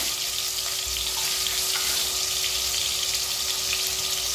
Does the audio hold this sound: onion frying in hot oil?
yes